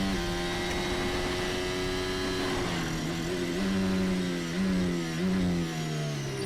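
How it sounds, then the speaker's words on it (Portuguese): A Red Bull Formula 1 car engine under braking, revving high, drops in pitch in stepped downshifts with short blips in between, close and fairly loud, alone without any voices. "como que o barulho do motor era mais alto do que o normal numa freada"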